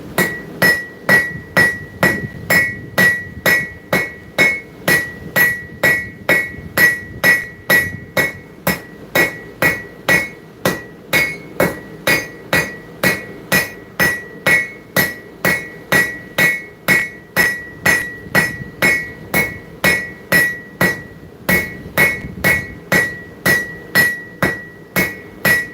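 Forging with a heavy hand hammer in a blacksmith workshop: dozens of sharp metallic blows land in a steady, even rhythm, about two per second, loud and close, with no talking.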